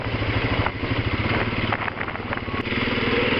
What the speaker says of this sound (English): Okay, so here I am, driving driving the 500 Rubicon.